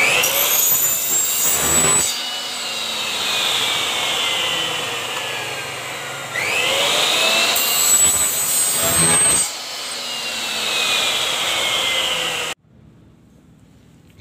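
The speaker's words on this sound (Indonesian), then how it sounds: "Mau kita rapikan dulu sudutnya ini biar kita potong." A power tool cuts into the corner of a PVC pipe, a loud continuous whining, rasping roar in two long bursts separated by short pauses, ending abruptly into near-silence.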